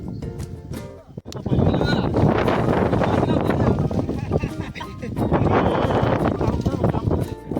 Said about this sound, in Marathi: वारा खूप वारा सुटलाय जोराचा वारा आहे